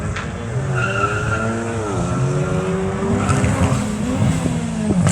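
A VW Golf and a Vauxhall Corsa launch at an airfield drag racing event, engines revving loudly through rising gear changes with tyre squeal, close and powerful for several seconds.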